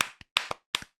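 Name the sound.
applause sound effect from soundboard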